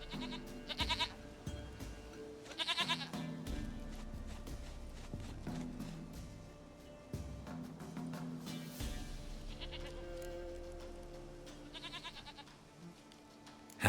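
A goat in The Witcher III bleats in several short bursts, close and fairly loud, over steady game music and ambient sound.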